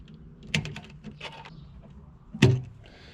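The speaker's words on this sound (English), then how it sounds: "I'm just gonna cut these wires" Car speaker wires in a Genesis Coupe being cut, two sharp close snips about two seconds apart with small handling clicks and rustles between them.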